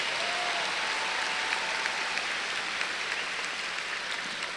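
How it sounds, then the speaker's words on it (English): Parents and guests in a large crowd applaud the 2022 graduates at a Sachse High School graduation ceremony, a dense, steady clapping that holds at an even level throughout. "Give them a big round of applause, parents."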